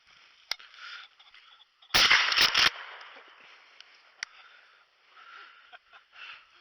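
A single sharp shotgun blast while pheasant hunting outdoors, sudden and loud with a brief ragged tail, set among quiet open-air background and faint scattered ticks.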